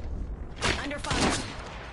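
Gunfire in Apex Legends, two muffled, overlapping bursts of shots a half second apart over a constant low game rumble, moderately loud and slightly distant.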